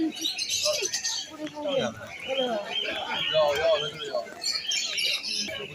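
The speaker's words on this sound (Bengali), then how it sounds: "এখানে বড় বড় পায়রা বিক্রি হচ্ছে" Pigeons coo and chirp among other birds at a busy pet market, with steady close bird calls mixed under people talking throughout.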